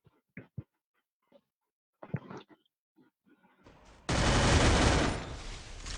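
Gunfire in the mobile battle game Free Fire erupts as a loud, dense burst of shots after several seconds of sparse, quiet voices and clicks, then holds steady and close until the end.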